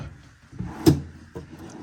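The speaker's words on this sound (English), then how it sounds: "We have some drawers here." Wooden drawer in a hotel room at the Tokyo Disney Celebration Hotel slides and knocks shut, a short sharp thud in the middle with soft rubbing scrapes before and after.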